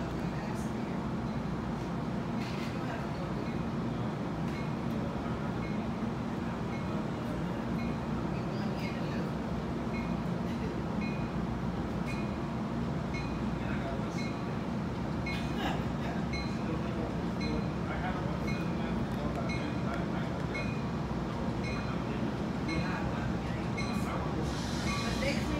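A train passes through New Haven station with a continuous rolling rumble and rail clatter that holds steady for about twenty-five seconds at moderate distance, with occasional voices in the background.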